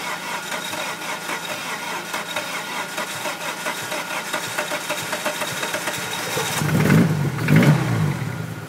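A 1998 Dodge Neon engine turns over and runs rough and loud, with a steady pulsing idle that surges into two heavier revs near the end, close by and with no one talking.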